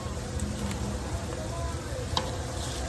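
Carrots and other vegetables with seasoning cooking in a one-pot meal, a soft steady sizzle and simmer with occasional faint clinks, close but fairly quiet and continuous.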